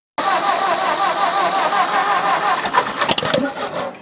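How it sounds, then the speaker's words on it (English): An old Ford farm tractor engine cranks and fires, then runs in a loud, rough roar that turns uneven and sputtering toward the end, heard close with no talking. "let me give it some throttle. Half throttle. It's gonna fire up."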